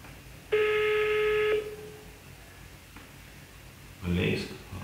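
A phone gives a single loud ringback tone lasting about a second while a call is placed. A faint click follows, then a short burst of voices near the end.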